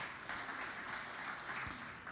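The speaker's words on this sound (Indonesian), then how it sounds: "Tepuk tangan yang meriah bagi Tuhan Yesus." Church congregation applauding, a steady broadband clapping texture sustained throughout at moderate level with no voices on top.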